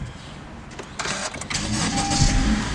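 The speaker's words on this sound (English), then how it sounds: "What we want to do now is we're going to start the car." The engine of a 2014 Honda Accord cranks briefly and catches, then settles into a steady close idle.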